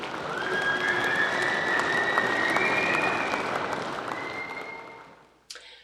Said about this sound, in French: Et on va applaudir.